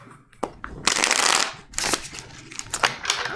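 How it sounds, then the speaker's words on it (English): Tarot cards being shuffled by hand, several crisp riffling bursts of card flutter close to the microphone, separated by short pauses, with no talking. "I wish these cards would shuffle now."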